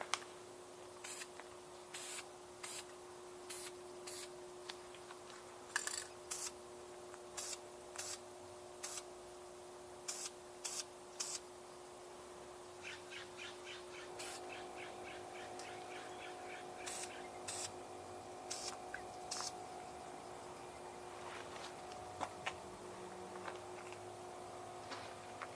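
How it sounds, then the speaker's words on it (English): Repeated short hissing bursts of a spray can misting dirt-colored weathering paint onto Hot Wheels die-cast cars, each spurt a second or two long with pauses between, close and fairly quiet over a faint steady hum. "you kind of want to spray from below and let it naturally spray over the car"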